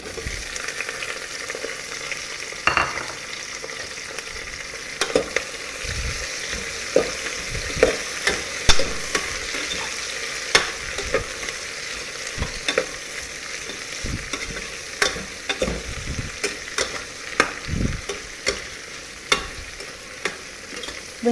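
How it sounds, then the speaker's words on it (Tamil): Onions sautéing in a pan for Hyderabadi mutton biryani give a steady close sizzle, with a utensil scraping and stirring at irregular intervals. "வெங்காயம் நல்லாவே வதங்கணும்"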